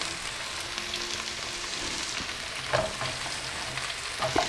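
Beef for stroganoff sizzles steadily in a hot pan alongside French fries, a loud close frying hiss with a few brief clinks of stirring.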